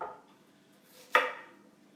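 A kitchen knife chops through a large onion in one sharp, close stroke against the board, followed by a short fading scrape in an otherwise quiet moment.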